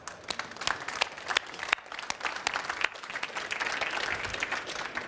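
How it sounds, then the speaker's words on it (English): A conference room full of people claps steadily for several seconds, a dense crackling applause that swells slightly toward the end. "I'd like to ask you to join me in a round of applause for Homey and Athom."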